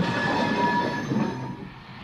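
A loud, dense roar of a rushing train, steady rumble with faint squealing wheel tones, close and continuous before easing slightly at the end.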